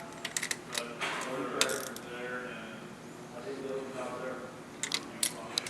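Ratchet clicks while snugging a glow plug down on a RigMaster, bursts of quick metallic ticks near the start and again near the end, with background noise between.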